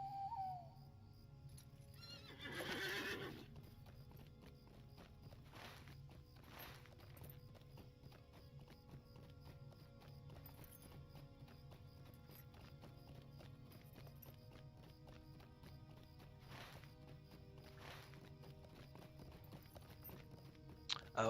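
Horse hooves clip-clop steadily in The Lord of the Rings Online, with a brief whinny near the start, then a long even trot of soft, regular footfalls over quiet ambient background.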